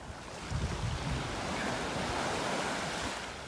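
Ocean surf washing onto a beach in North Naples, Florida, a steady broadband rush of breaking waves with some wind noise, swelling slightly and holding at a constant moderate level throughout.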